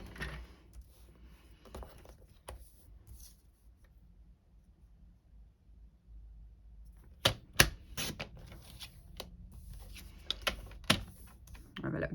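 Paper trimmer cutting cardstock into squares during card making: a quiet stretch, then a run of sharp, close clicks and slicing snaps as the blade is pulled and reset several times.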